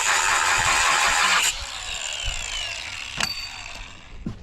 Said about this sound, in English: I had some plasma cutting to do